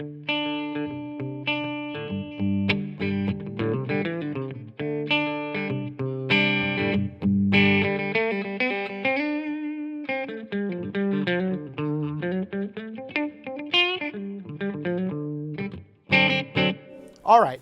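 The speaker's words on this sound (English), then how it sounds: "it'll give you a little bit more of that distortion without hitting it so hard" Distorted electric guitar rings through a Blackstar Club 40 MKII amp, playing chords and single notes with sustained, gritty tone and some reverb, pausing briefly near the end.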